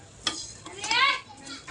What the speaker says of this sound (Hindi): जब तक मैं ये ज़ीरा और धनिया भून ले रही हूँ।